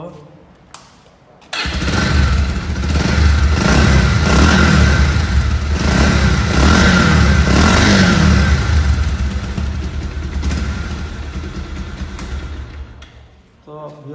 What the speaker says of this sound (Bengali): এবার স্টার্ট দিব